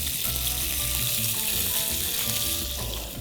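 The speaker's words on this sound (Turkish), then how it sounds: "tavaya diziyorum palamutları" Steady, loud sizzling of bonito fish searing in hot oil in a pan fills the whole clip, a continuous crackling hiss with no voices.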